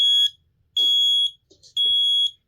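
A Kidde P4010ACSCO combination smoke and carbon monoxide alarm sounds its test signal: three loud, piercing electronic beeps of about half a second each, evenly spaced and close up, with faint mechanical clicks between them and no talking.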